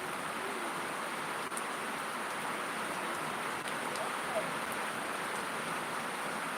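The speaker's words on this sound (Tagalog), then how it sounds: "lakas na naman ang ulan" Steady, dense rain pours down in a constant hiss, with a few faint drips and taps scattered through the downpour.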